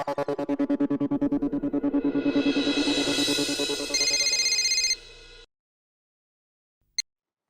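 A telephone rings with a rapid electronic trill, looping loud and close for about five seconds before cutting off, followed by a single short beep after a pause.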